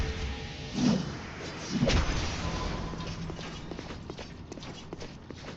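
Hooves clip-clop from a horse in a fantasy quest video game, a steady patter of light hoofbeats with a couple of louder thuds early on, close and alone without talk.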